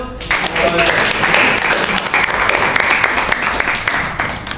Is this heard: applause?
yes